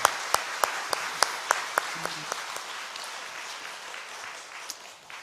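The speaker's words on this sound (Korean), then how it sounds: "우리 한번 다시 한번 축복과 격려의 박수를 한번 하겠습니다" A church congregation at a prayer service gives an applause of blessing and encouragement: sharp, evenly spaced claps stand out at first, then fade into a softer, thinning patter of clapping.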